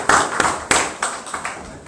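Church congregation applause, a dense spread of hand claps with a few sharper bursts rising above the patter, close and fairly loud, lasting a couple of seconds.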